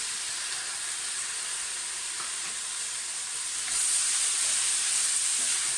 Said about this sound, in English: Okay, next, chopped tomatoes. So they go in.